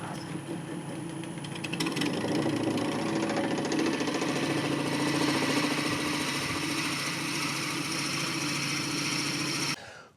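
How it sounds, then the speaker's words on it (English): A drill bores an inch deeper into a wooden turning on a lathe, a loud steady grinding whir with a rapid chattering texture running continuously for several seconds before cutting off abruptly. "I can do it with a drill. Got the drill set, and I'm going to go about 1 inch deeper"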